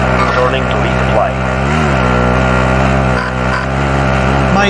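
A car engine drones and revs steadily in Call of Duty Warzone, loud and continuous, with pitch shifting as it drives, while players talk over it.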